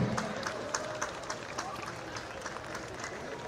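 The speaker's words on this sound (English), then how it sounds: "Big round of applause for the Cahill family." A crowd at a high school homecoming football game applauds for the Cahill family, with quiet, distant, steady clapping and scattered sharper claps standing out over a low murmur.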